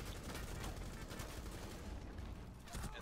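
Dense, continuous gunfire from the Rainbow 6 Siege shooter, steady close bursts of shots blending into a loud unbroken rattle for the whole stretch, with no pauses between volleys.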